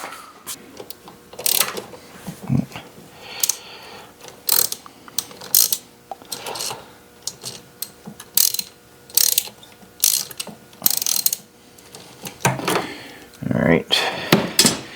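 A ratchet loosens the 7 mm nut on a hose clamp of a 2011 Ford Fiesta during throttle body cleaning, giving repeated bursts of sharp metallic clicking, close up, with short gaps between strokes.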